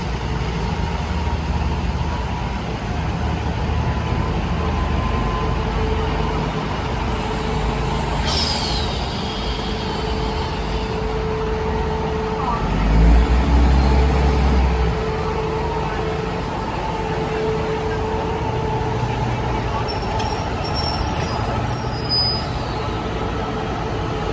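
A Daewoo diesel railcar train sets off at a ceremony on the Nakhon Si Thammarat line, its engine idling and droning in a low steady hum with a brief hiss of air, heard from close by without talk.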